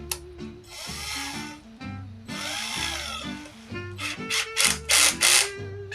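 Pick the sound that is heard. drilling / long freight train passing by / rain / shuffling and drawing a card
drilling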